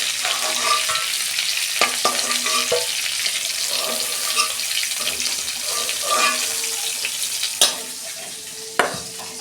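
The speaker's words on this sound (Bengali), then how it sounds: "মাছটা ভাজা হয়ে গেছে" Fish frying in hot oil in a home kitchen, a steady close sizzle with occasional stirring, scraping and clinks, plus a couple of sharp knocks near the end.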